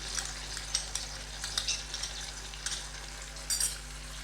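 Ginger garlic paste frying with mushrooms in a pan for a mushroom pepper masala: a steady soft sizzle with light crackles and occasional stirring scrapes, close and quiet, with no voices.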